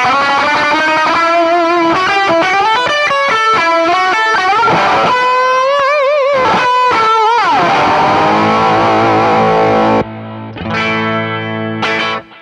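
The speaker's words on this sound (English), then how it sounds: "the Catalinbread Tribute must be considered. Firstly, it's a great overdrive." Electric guitar through a Catalinbread Tribute parametric overdrive pedal, loud driven phrases of bends and sustained notes, then a thick held chord after a short break.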